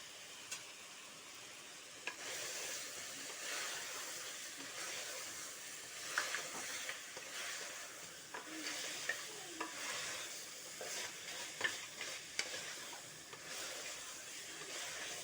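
Paya trotters hissing in a hot pan give a steady, broad sizzle that lasts throughout, with occasional spoon scrapes and small pops on top, close and fairly quiet.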